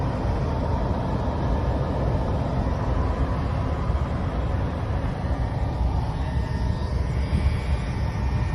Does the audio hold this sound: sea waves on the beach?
no